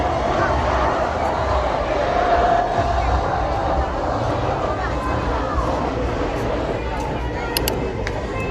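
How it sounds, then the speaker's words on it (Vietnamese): A dense crowd along the Han River by Dragon Bridge in Da Nang cheers and murmurs as the first fire bursts light the night, a steady, loud roar of massed voices spread wide and continuous. "Tiếng reo hò vang khắp bờ sông Hàn."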